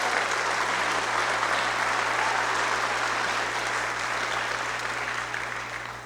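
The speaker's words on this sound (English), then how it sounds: "How about one more round of applause for all of the scholarship recipients on stage tonight." Sustained, full applause from an evening audience at a 2019 scholarship night, cheering scholarship recipients on stage; dense, even clapping fills the whole stretch and fades slightly at the end.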